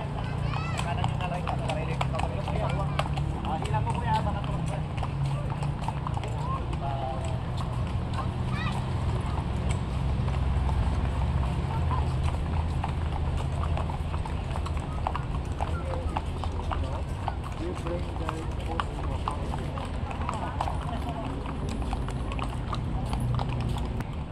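Horse hooves clip-clop steadily during a horse ride at Wright Park in Baguio City, a continuous rhythmic clatter heard under frequent talk from people nearby.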